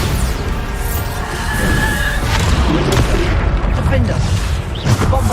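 Bombarda spell explosions in a Hard Mode Hogwarts Legacy fight, repeated booms and crashes in a thick, continuous din of combat noise, with a voice calling out over it.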